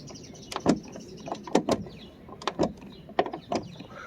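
Someone tests the door check on a 1995 Mercedes SL500 AMG by swinging the door back and forth. Repeated short mechanical clicks and clunks come in close irregular bursts, with no talking.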